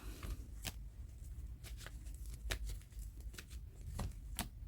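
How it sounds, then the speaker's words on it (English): Angel oracle cards shuffled by hand, a steady run of soft riffling flicks and snaps, close and fairly faint, with no talking. "We're going to pull up some cards from the oracle cards, from the angel oracle cards."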